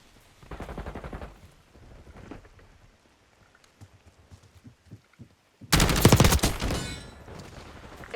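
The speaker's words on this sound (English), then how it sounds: "HVT is taking fire." Call of Duty: Black Ops 6 multiplayer gunfire, with scattered shots and brief bursts early on, then a sudden loud, close volley of rapid automatic fire near the end.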